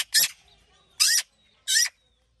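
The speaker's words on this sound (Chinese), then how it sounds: "这个喜鹊听到吃的了，又过来了。" A magpie near food gives three harsh, raspy chattering calls, close and clear, with short silent gaps between them.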